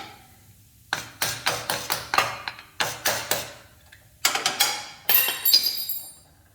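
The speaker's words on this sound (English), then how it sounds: "I don't normally throw my hammers on the floor" Hammers clatter onto a floor in a dimple die workshop, a run of sharp metallic clanks and knocks in uneven groups, close and fairly loud, ending in a ringing jangle.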